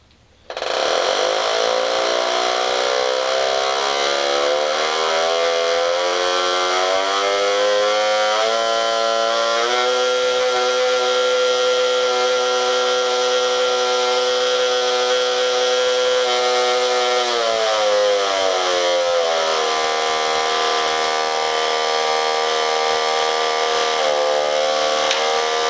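A 1965 Marx Toys Big Job dump truck toy's motor whirs loudly and steadily for nearly the whole stretch, a buzzing, harmonic-rich drone that shifts pitch slightly midway before settling again, with no talking over it.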